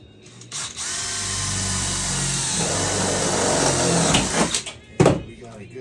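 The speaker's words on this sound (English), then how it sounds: "Drill it down, let's get it done." A power drill bores into the floor of a Jeep Wrangler under restoration, a loud continuous whine for about three seconds before winding down into short bursts and a clunk.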